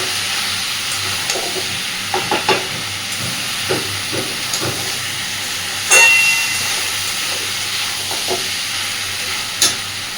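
Masala is stirred and sautéed over a medium flame in a wok, with a steady low sizzle broken by spatula scrapes and taps at irregular intervals.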